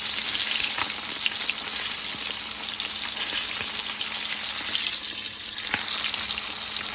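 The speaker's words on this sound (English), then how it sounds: "Frying fish first." Steady crackling sizzle of red tilapia frying in hot oil, a dense continuous hiss with occasional sharper pops, close up and without voices.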